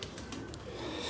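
A 2018 champion pigeon cooing: a brief, soft throaty coo heard close up against faint background noise, with no one talking.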